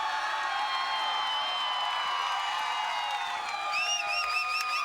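Excited crowd at a KVKL championship baseball game with the bases loaded, a steady sustained roar of cheering and voices near and loud, with whistles rising at the end.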